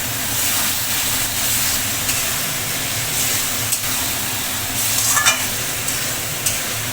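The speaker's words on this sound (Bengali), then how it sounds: "খুব ভালোভাবে কষিয়ে নিতে হবে সমস্ত মশলা, আলু, প্রতিটা উপকরণ।" Spices and potatoes sauté in a pan for a Bengali village-style fish curry: a continuous close sizzle with occasional scraping stirs and light clicks.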